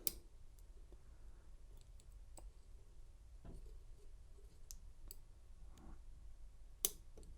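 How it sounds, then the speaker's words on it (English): An AM5 Lishi pick clicks through the serrated pins of an American Lock Series 50 padlock: faint, scattered small clicks and ticks in a quiet room, with one sharper click near the end. "now you should just see clicking through each serration"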